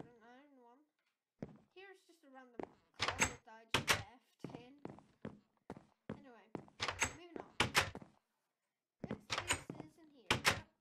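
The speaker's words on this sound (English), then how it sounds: "Here is just a trap door, an iron one." A Minecraft iron trap door opens and closes repeatedly, a run of sharp metallic clanks and thunks in irregular bursts, close and crisp, with a few gaps of silence.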